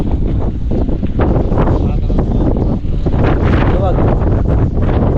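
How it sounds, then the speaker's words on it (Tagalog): Loud, gusty wind buffets the microphone in heavy continuous roaring bursts, with water and rustling faintly beneath, in a field during seedling planting. "Ay, lakas ng hangin."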